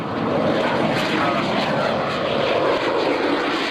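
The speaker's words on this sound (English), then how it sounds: "taking the airplane up" Propeller airplane flying at the 2004 AirPower Over Hampton Roads airshow, a steady loud engine roar that holds constant throughout without a break.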